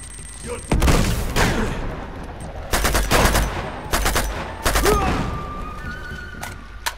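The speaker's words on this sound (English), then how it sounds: "Grenade!" A grenade blast and gunfire sound in the Uncharted 2: Among Thieves Remastered game, with loud sharp bursts and booming impacts over a busy combat backdrop.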